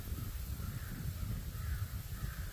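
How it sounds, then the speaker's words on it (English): Crows cawing at a distance outdoors, a few harsh repeated calls in loose succession over a low wind-like rumble, with no speech. "Ooh, the crows are wound up over it. I don't know if you guys can hear them."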